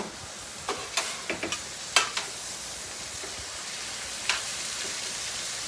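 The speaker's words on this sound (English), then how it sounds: "make sure your ground beef and your onions and your peppers are cooking up" Ground beef, onions and peppers fry in a pan with a soft, steady sizzle, punctuated by a few sharp spatula taps and scrapes near the start and again later. No one speaks.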